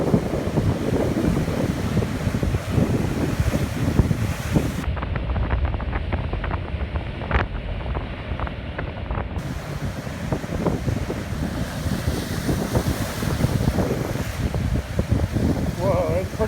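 Ocean waves surge and splash at Thor's Well on the Oregon coast, a steady loud roar of surf with wind buffeting the microphone throughout, and people talk faintly over it.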